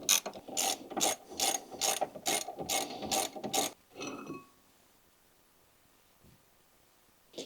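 A ratchet wrench undoes the 13mm brake caliper bolts on a Ford Fiesta ST, with a run of rapid, loud clicking bursts close by, then a single brief clunk and near silence.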